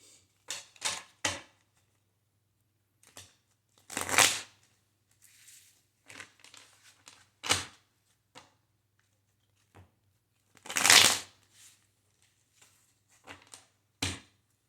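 Hidden Truth Oracle cards being shuffled in separate brisk bursts, with sharp riffles and soft slaps spread across the stretch and quiet gaps between them, close and alone with no talk.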